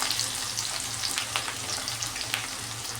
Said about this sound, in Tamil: வெங்காயம் போட்டுக்கிட்டேன், 2 வெங்காயம் போட்டிருக்கேன், பெரிய வெங்காயம் அளவான சைஸில்